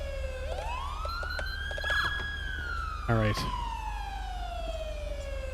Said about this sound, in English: I'll try to save everybody's eardrums from the sirens, but sometimes they just don't get turned off.